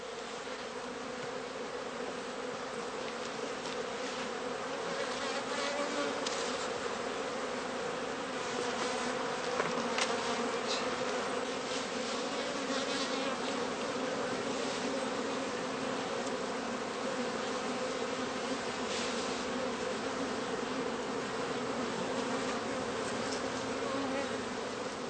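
Honey bees swarming around heather skeps in a large apiary of some 700 colonies, a dense continuous buzzing hum holding steady and close for the whole stretch, with no voices.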